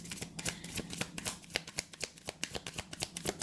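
A deck of reading cards is shuffled and drawn up close, a rapid run of soft riffling flicks and slaps, quiet and with no talk.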